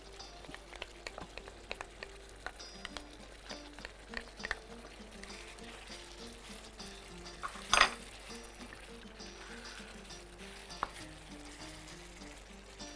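Tomato paste frying in a pan, a steady low sizzle with scattered small clinks and stirring taps, plus one sharper clatter partway through, close and quiet with no talk.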